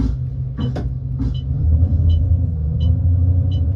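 In the OMSI 2 bus simulator, a City Bus C400R engine rumbles deep and steady, swelling slightly halfway, with a few faint high chimes or clicks repeating over it.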